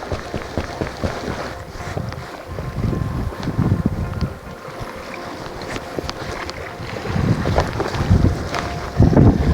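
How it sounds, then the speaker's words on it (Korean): Strong gusts buffet a seaside stone embankment on the Taean coast during a shore fishing outing, a continuous low roar and rumble of wind hitting the microphone, swelling louder toward the end. "오 여긴 바람이 좀 드센데"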